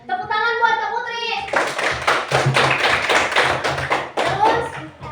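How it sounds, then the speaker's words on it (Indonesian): A class of primary school children claps for Kak Putri in a classroom, a burst of quick, uneven clapping after a short spoken phrase, with children's voices mixed in. "Tepuk tangan buat Kak Putri"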